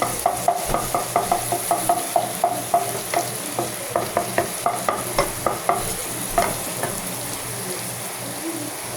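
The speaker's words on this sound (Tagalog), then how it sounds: "mix na natin yung bawang at saka onion" Garlic and onion sizzle in a pan while a utensil stirs them, scraping in quick regular strokes over a steady frying hiss, close and fairly loud with no talking.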